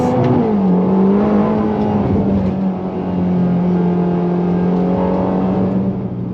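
A Ferrari Roma's engine pulls hard at high pace on a winding road in race mode, a loud, steady drone with shifting pitch and an up-and-down rev as it drives close by, without talk.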